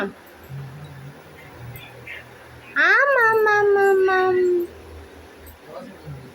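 A dog gives one drawn-out howl that rises and then holds a steady, loud pitch for about two seconds. It sounds close by, with faint household noise and murmuring voices before and after.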